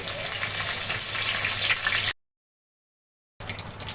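A torn bay leaf and whole spices hit hot oil in a pan for a chicken and green jackfruit curry, giving a loud, steady sizzle that cuts out abruptly to a second of silence, then resumes.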